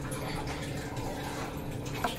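Water runs from a kitchen tap into a pot while veg chili soup is being cooked at home. The stream makes a faint, steady splashing hiss with a soft drip-like blip near the end.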